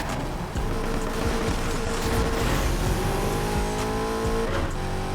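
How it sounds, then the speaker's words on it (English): A car in the racing game Need for Speed Heat e-braking through a turn, with a steady loud engine roar and rising tone over sustained tire noise, no talk. "Yeah, we had to e-brake a little bit"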